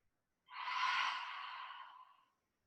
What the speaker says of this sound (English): take a nice deep breath in and out here